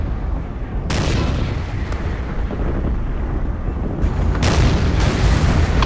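Tank shells exploding in a World War II style war video game pitting German front-line infantry against heavy tanks, a dense roar of blasts and booms with two sharp heavy impacts standing out, loud and close.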